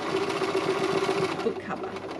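Sewing machine stitching a fabric book cover, a steady continuous mechanical whir with a rapid needle rhythm running loud and close throughout.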